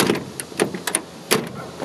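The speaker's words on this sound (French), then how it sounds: "ce qui fait plaisir aussi, c'est ouvrir et fermer les portes" Doors on a 1956 Chevrolet 210 wagon are worked open and shut, giving a quick run of close metallic clicks and latch clunks in uneven bursts, with no talk.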